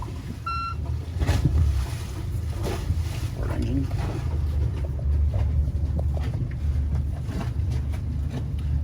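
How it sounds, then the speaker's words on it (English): A starboard and port boat engine setup comes to life: a short electronic beep, then a steady low diesel rumble and throb that runs on at idle, close and continuous. "Start engine."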